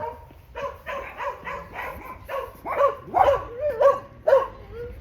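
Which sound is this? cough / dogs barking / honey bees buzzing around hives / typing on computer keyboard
dogs barking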